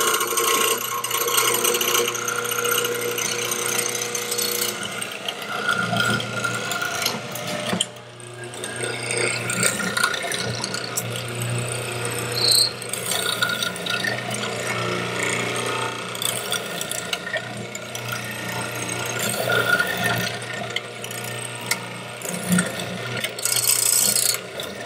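A woodworking mortiser bores a series of holes into wood, giving a long, steady grinding and ratcheting mechanical noise that stays loud and close for the whole stretch.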